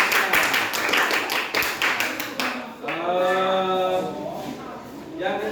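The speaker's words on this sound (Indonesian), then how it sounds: "Oke, tepuk tangan buat Nathan." A classroom of children clapping for a student in an Indonesian computational-thinking lesson, with brisk, fairly loud patterned claps for about three seconds before a voice speaks over a fading room.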